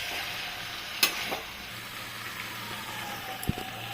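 Mixed vegetable curry sizzles softly in a pan as it is stirred, a steady low frying hiss broken by a couple of sharp utensil clinks against the pan; no talking.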